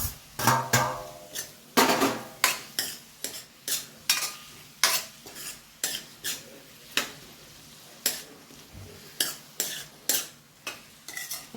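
Tomatoes are stirred through a pan of baingan bharta (eggplant mash) with a spoon. Each stroke gives a sharp scrape or clack in a steady rhythm, over a soft, low sizzle, with no voices.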